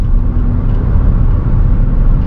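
A motorbike engine pulling hard in fifth gear, a steady loud low drone with a constant rumble and no other sounds, close and uninterrupted.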